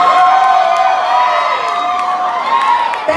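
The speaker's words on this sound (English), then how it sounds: "Thank you for clapping." A comedy club crowd at Scarlet Honolulu erupts in loud, sustained cheering and high whoops, voices rising and falling together for several seconds.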